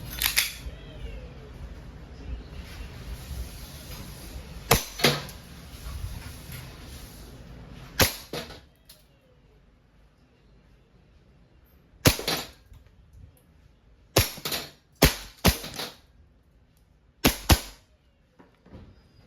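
A WE Airsoft 2011 Hi-Capa 5.1 T-Rex semi-automatic gas blowback pistol fires about eight sharp, loud single shots at irregular intervals, some in quick pairs, with a faint hiss between them.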